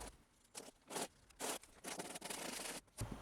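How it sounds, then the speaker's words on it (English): A sanding block rubs back and forth over hardened body filler on a rusty 1989 Mazda MX-5 panel, giving a series of short, quiet, rhythmic scratchy strokes separated by brief pauses. "get my block sander on it and try and bring it back to a nice contoured shape"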